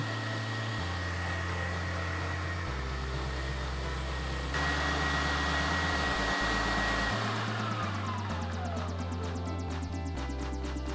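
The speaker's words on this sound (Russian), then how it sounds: "Вначале смелим лук. Решетку нужно ставить на мясорубку самую мелкую." Electric meat grinder mincing onion through its finest plate, a steady loud motor whine whose pitch shifts as the load changes, running alone without talk.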